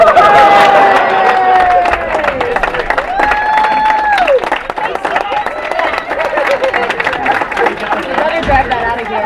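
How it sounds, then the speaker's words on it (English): Guests clap and cheer at a wedding as the bride comes down the aisle. The applause is loud and steady, mixed with crowd chatter and voices talking over it. "Somebody clap her off."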